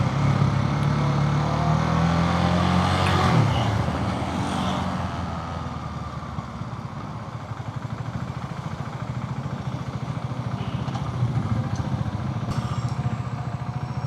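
A motorcycle riding through city traffic in Colombia, with a steady engine drone and rushing wind noise, a rising engine whine early on, then passing traffic sounds, close and continuous.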